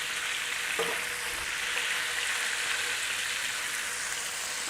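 Thin brisket slices fry in butter in a pan, giving a steady, even sizzle with soft crackle throughout, a faint clink early on, and no voices.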